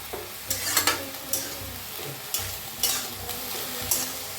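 Moong beans are dry-roasted in a pan, giving a close, steady crackling hiss broken by bright scraping bursts from stirring roughly every half second to second, with no voices.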